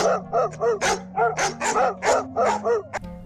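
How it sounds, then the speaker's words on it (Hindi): Several dogs bark in quick, repeated bursts, loud and close, with yips mixed into an uneven rhythm. "सारे कुत्ते गोपी की ओर देखकर भौंकने लगते हैं।"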